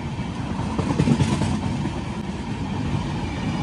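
Kamakhya-Puri Express running on rails through the Dooars in rain, giving a steady loud rumbling roar of wheels and coaches, continuous and close with no speech.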